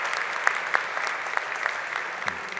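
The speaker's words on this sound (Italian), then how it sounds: "a cui facciamo un grande applauso" Audience applause at a cooking show masterclass with chef Enrico Bartolini, a moderate even patter of clapping hands from a seated crowd, steady throughout with a few sharper individual claps.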